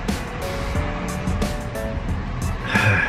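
Steady road and engine rumble inside a moving Jaguar car, a continuous broadband drone with faint tonal whine, close and even throughout with no talk over it.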